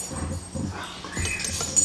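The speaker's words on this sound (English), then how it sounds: "you guys can hear my dogs in the background" Dogs somewhere in a room during a painting session, giving brief soft whimpers and yips at moderate distance, faint and intermittent over low background noise.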